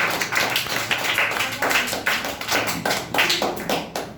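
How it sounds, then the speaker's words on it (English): An audience at a school public speaking competition claps steadily, many hands beating in a continuous, moderately loud patter throughout, close and unaccompanied by speech. "So well done, clap for Yashika."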